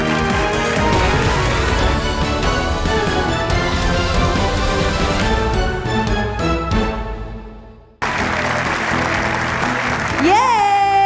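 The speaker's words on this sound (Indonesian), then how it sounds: "Boleh beri tepuk tangan yang lebih meriah lagi" An audience at an awards ceremony claps in a dense, loud, sustained burst that fades out, followed by music swelling in after a brief break.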